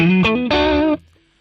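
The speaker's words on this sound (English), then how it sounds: "you can hear the distortion kick in as such." Electric guitar on the crunch channel of a Boss Katana amp, giving a short burst of gritty, overdriven chords with a slide between notes, loud and close before a quick decay into ringing tail.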